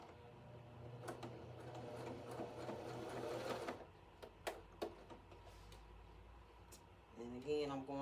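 A domestic sewing machine stitches fabric in a fast, rhythmic whirring burst for several seconds, then stops with a few clicks as the needle and presser foot are raised, and a voice speaks near the end.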